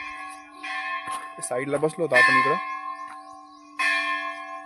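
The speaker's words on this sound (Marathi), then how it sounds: "केवढी घंटा आहे म्हणजे" A large temple bell at a hilltop temple rings out in a few loud, ringing strikes spread across a few seconds, and someone talks between and over the peals.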